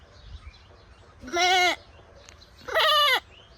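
A human voice imitates a goat, giving two loud, close, wavering bleats about a second apart with quiet pauses around them.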